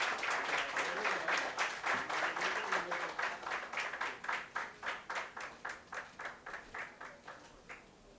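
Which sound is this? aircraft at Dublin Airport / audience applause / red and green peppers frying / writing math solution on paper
audience applause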